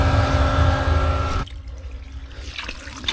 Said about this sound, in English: Flush this thing out.